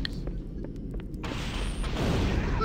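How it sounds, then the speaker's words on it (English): Explosions in the Halo video game erupt as a loud, sustained broadband rumble and roar that swells toward the end, with speech mixed in underneath. "Oh, yes. Explosions indeed."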